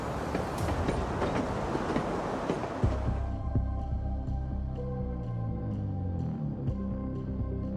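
A passenger train rolls along the tracks on Sri Lanka's west coast with steady rumbling and rhythmic clickety-clack, loud and close, easing into a lower, even roll.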